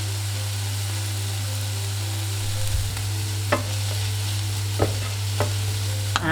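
Onions, cumin seeds and garlic sizzling in a pan for an Indian vegetarian dish, with a steady frying hiss, a low hum and a few sharp scrapes of stirring.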